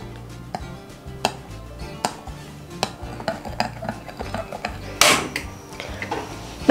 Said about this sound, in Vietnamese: Mọi người khuấy đều lên.